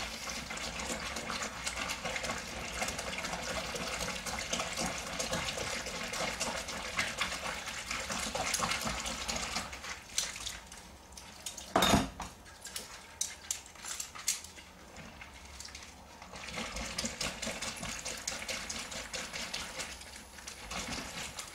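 Cold water runs and splashes steadily into a container at close range in a kitchen, with occasional clinks of dishes, then pauses briefly before flowing again.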